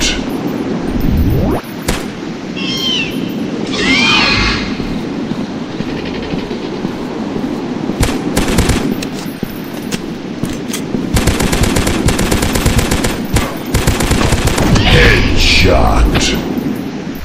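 Gunshots in a dinosaur hunting video game: repeated sharp shots and bursts of rapid fire over a rumbling background, loud and close, with a voice talking at times.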